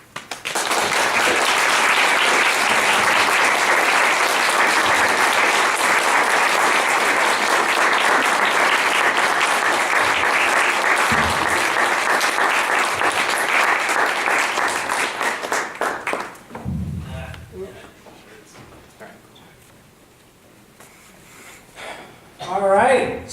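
Audience applause after a poetry reading by Shane McCrae, dense steady clapping filling the room for about sixteen seconds before fading into scattered claps, murmurs and a few voices.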